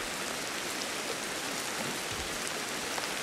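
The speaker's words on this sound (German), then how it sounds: "Im Regen." Rain pours down in the video game Ancestors: The Humankind Odyssey, a dense, even hiss of falling drops that fills the whole stretch without any talk.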